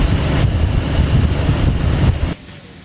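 A sailing boat thumps through waves down Loch Ness in strong wind, a loud continuous roar of wind buffeting and rushing water with repeated hull thuds, cutting off abruptly near the end.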